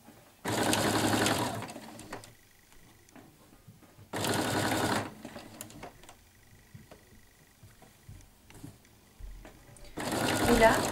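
A sewing machine runs in two steady bursts of stitching along a curved bias-tape edge on a bath wrap, with quiet handling and a third run starting at the end.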